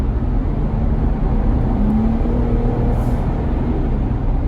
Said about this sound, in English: I'm gonna take a couple more tight turns here.